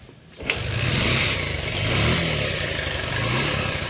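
A Bajaj Pulsar 150 motorcycle with a starting problem is kick-started. A sharp mechanical clack is followed at once by the engine catching and running with a steady, close, loud putter that rises and falls slightly.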